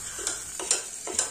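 Spices frying in a pan while pasta is being made give a close, steady sizzle, with three rhythmic stirring scrapes over about a second.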